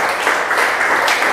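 A church congregation at a revival service breaks into loud, continuous applause and cheering, a dense wash of clapping filling the room.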